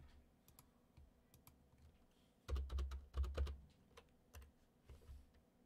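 Typing on a computer keyboard during Minecraft Education Edition coding: soft scattered keystrokes, then a louder dense burst of clacks near the middle, followed by a few more isolated taps, close by with no speech.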